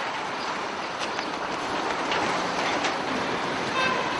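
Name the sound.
train at railway station in Kolozsvár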